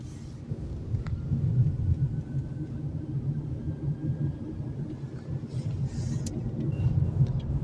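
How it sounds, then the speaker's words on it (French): An electric car rolling along with the accelerator released so regenerative braking slows it, giving a steady low rumble of tyres and road noise with faint motor whine, continuous and fairly close, with no talking. "Là, je lâche l'accélérateur et hop, la barre de charge se met en place, ça régénère et ça freine la voiture."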